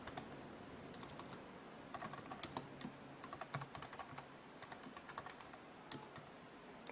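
Computer keyboard keys are typed in quick uneven runs and pauses as a command is entered, soft and close with a faint background hiss.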